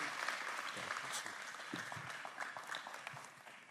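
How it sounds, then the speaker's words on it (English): Church congregation giving a warm round of applause as a guest comes up to speak; sustained, dense clapping from a large room that tapers slightly toward the end, without speech. "Can we give a warm round of applause to Frank as he comes to share with us?"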